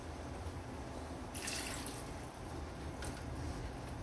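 Water poured over cut vegetables in a cooking pot for aviyal, a quiet splashing pour that swells briefly in the middle over faint background hiss, with no one speaking.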